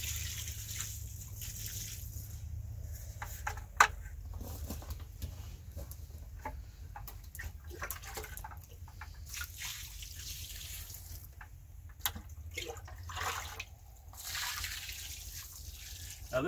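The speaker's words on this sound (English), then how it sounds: "we just want to get a nice spray of it right around the plants to the root zone" A soft, steady spray of JMS liquid is misted onto garden soil around plants toward the root zone, heard as faint continuous hiss with scattered drips and small patters, plus an occasional light tap, throughout.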